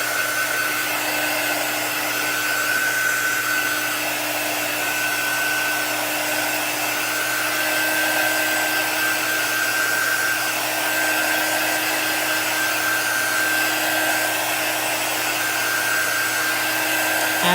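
Hair dryer blowing on chalk paste over a craft project, a loud, steady, continuous whoosh with a constant motor whine held without a break throughout.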